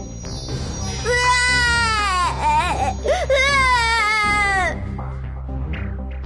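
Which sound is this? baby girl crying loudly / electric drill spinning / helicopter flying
baby girl crying loudly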